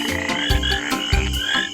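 A tree frog croaks loudly and close by, giving a steady rhythmic series of deep, buzzing calls with low pulses about every half second.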